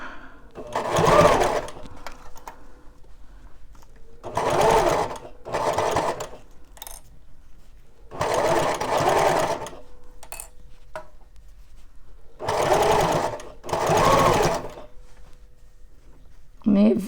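A sewing machine stitches in short bursts on a Christmas crafting project, six or so rapid whirring runs separated by pauses, up close.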